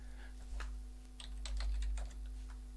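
Fingers tap out a name on a computer keyboard into an online search form, a short run of light, close keystrokes over a steady low hum.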